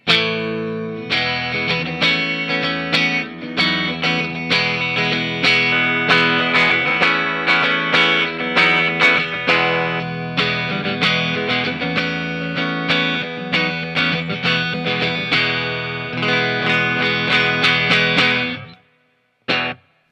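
A Fender Brad Paisley Signature Esquire electric guitar on its middle pickup position plays a busy run of strummed chords and picked notes through effects, loud and close, then stops abruptly.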